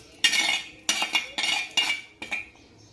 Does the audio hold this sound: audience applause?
no